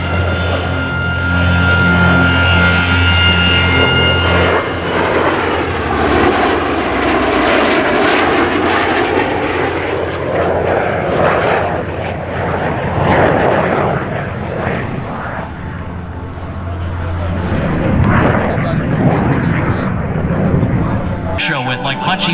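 Formation of aircraft flying over at the Columbus Airshow 2026, approaching from behind and to the right, a loud swelling engine drone that builds, peaks overhead and fades, with a voice talking over it.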